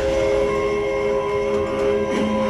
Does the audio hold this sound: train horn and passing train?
yes